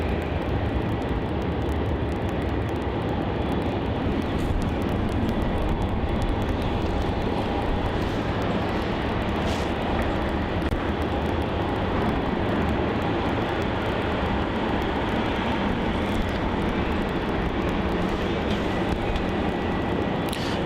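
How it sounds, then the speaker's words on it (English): A Jetstar Airbus A321-200 Neo taxies toward the runway at Melbourne Airport, producing a steady, broad engine rumble and whine that holds at an even level throughout, with no voices. "just taxiing down now towards runway 34 is JQ31, the Airbus A321-200 Neo for Jetstar"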